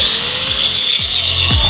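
A grinder biting into a homemade anvil of mixed metals, a loud, constant high-pitched shriek with low rumbling pulses about every half second beneath it, close and alone.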